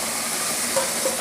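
Cooked dal hits a hot red chili tadka, producing a dense, even hiss of sizzling oil with a couple of faint soft bumps, short and unbroken, with no talking.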